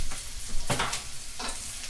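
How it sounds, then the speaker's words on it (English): Onions frying in a pan are stirred, giving a couple of scraping, rustling bursts over a steady close sizzle, with no talking. "I'm going to go stir my"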